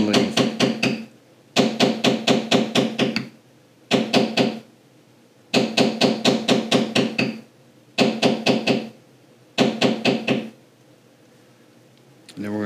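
A leather beveling tool tapped with a mallet, beveling down a carved leaf: close, loud runs of rapid sharp knocks in six distinct bursts separated by short pauses.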